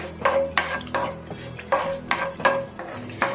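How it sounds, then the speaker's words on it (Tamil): Fenugreek and cumin sizzle steadily in hot oil while a utensil stirs and scrapes the pan in a regular rhythm, close up, with no voices. "இது ரெண்டையும் எண்ணெயில் நல்லா பொரிய விட்டுருவோம்"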